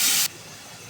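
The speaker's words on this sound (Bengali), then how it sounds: "সামান্য একটু জল দেবো।" A splash of water hits a hot pan of Chinese-style baby corn, giving a loud sharp steam hiss that cuts off abruptly into a quiet low sizzle.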